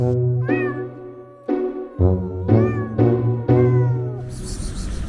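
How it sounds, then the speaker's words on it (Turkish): A cat meows repeatedly at close range, about five drawn-out, rising and falling calls in a row, with short pauses between them. "Bu anne kedi Melisa bir yılda iki defa doğurdu"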